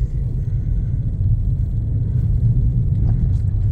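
A car pushes through deep snowdrifts in a strong blizzard on the way to town, heard from inside as a loud, continuous low engine rumble and road drone with no talking.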